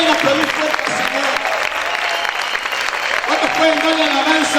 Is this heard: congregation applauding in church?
yes